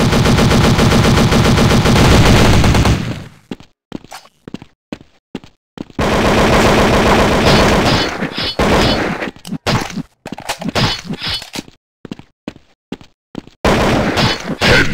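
Rapid automatic gunfire from the shooter video game Critical Strike GO, first a long sustained burst, then choppy short volleys and single shots separated by gaps, loud and close.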